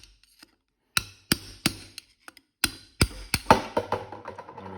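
Sharp metallic hammer blows drive a bushing out of a Mustang transmission during a rebuild, about ten loud, uneven strikes with pauses between, growing quicker and denser toward the end, with no talking.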